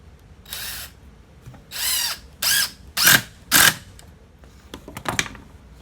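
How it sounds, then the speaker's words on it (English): A drill drives green 1 5/8 inch deck screws into an old wooden gate in short, close bursts: about five separate whirring pulses of rising intensity, followed by a few faint clicks. "I'm using a green deck screw that's 1 5/8 inch long to be able to assemble this gate."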